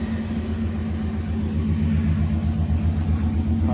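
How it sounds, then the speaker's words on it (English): A box Chevy engine idles in a low, steady rumble close by, a smooth purr that swells slightly toward the end. "Car starts right up."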